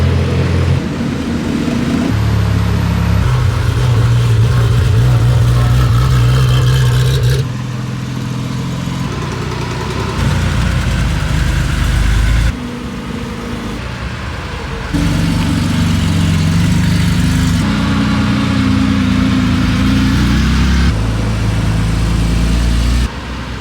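Porsche cars rolling into the pits at Goodwood circuit during a flat-six show, a sequence of loud nearby engines idling, revving and passing one after another with deep low rumble.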